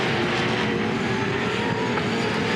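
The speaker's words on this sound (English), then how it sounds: "On board, Jack Perkins, ex-888 Falcon, the 2008 Bathurst winning car." Onboard roar of Jack Perkins' ex-888 Ford Falcon V8 Supercar, the 2008 Bathurst-winning car, racing: a loud, continuous engine drone at close range with no pauses.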